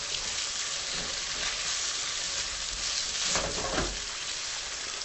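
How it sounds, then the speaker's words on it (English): Steady loud sizzling of tofu frying in sesame oil, continuous and close, with a brief stirring scrape partway through and no talking. "you've been just frying it in the sesame oil"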